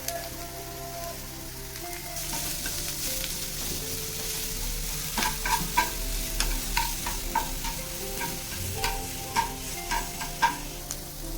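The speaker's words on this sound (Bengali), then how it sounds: "একটু ভেজে নেওয়ার পর আমি গ্রেট করা গাজরগুলো দিয়ে দেবো আর তার সাথে লঙ্কাগুলো দিয়ে দেবো" Grated carrots and chillies fry in a pan for veg chow, a steady sizzle that turns into a run of sharp crackles and pops in the second half as the pan is stirred, close and moderately loud with no talking.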